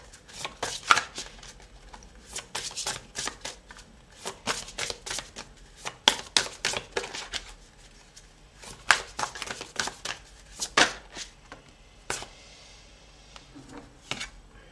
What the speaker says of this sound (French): Je vais chercher une autre carte.